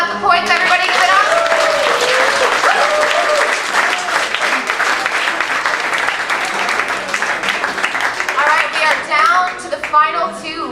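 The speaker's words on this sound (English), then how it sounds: "Applaud the poet, not the poets. Everybody give it up." Loud, sustained applause and clapping from an audience at a poetry slam, steady throughout with a host's voice and crowd cheers mixed in near the end.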